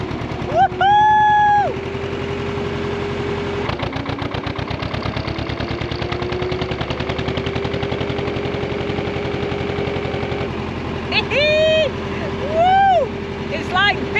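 An old Lister diesel engine on a narrowboat on the River Weaver revs hard, a loud rapid steady chugging throughout, with whistle-like tones near the start and end and no speech.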